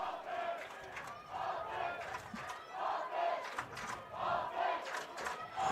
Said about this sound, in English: You hear the SNU faithful chanting offense.